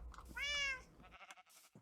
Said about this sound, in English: I tamed a cat.